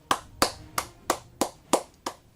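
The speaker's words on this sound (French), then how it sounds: "Nous pouvons nous applaudir." Seven sharp, evenly spaced hand claps from a single person, loud and close, with brief quiet gaps between each clap and no talking.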